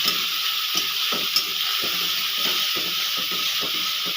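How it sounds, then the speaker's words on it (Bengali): Onions stirring and frying in hot oil, a steady broadband sizzle throughout with soft repeated scraping strokes from the stirring, close and continuous with no talk. "পেঁয়াজটা আমি দু মিনিট ভেজে নেব"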